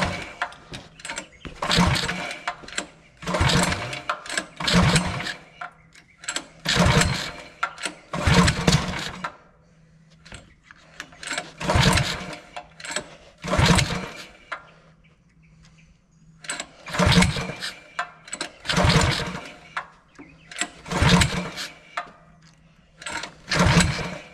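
Brand-new 16 HP go-kart engine being pull-started with the choke on: repeated bursts of cranking and sputtering, about a dozen pulls in a steady rhythm with short quiet gaps, close and loud, never settling into a run.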